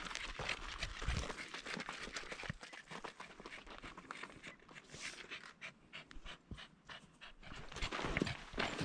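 Dogs panting hard on a mountain trail, rapid breathy huffs in a constant rhythm close by, mixed with footsteps and rustling on the path.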